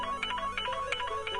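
A telephone rings in a quick repeating electronic pattern, short bright pulses close by and alone.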